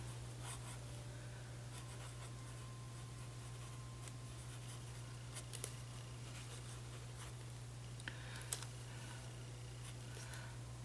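A Lamy extra-fine fountain pen writes on paper, faint scratchy strokes and light taps close by over a steady low electrical hum, with no talking.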